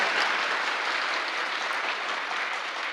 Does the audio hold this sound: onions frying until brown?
no